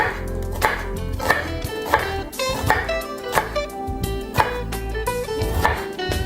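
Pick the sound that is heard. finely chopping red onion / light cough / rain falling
finely chopping red onion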